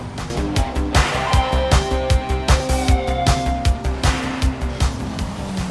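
A car drives in GTA V, its engine a loud, steady drone broken by rapid rhythmic thumps and clatter, with no voices over it.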